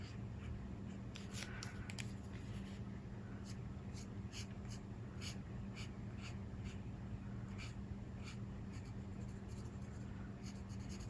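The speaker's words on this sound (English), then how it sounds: "And kind of scribble up those straight lines." Pencil scribbling short straight lines on a paper scrapbook leaf, a quick series of dry scratchy strokes at close range, fairly quiet and steady with brief pauses between bursts.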